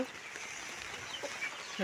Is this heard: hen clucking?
yes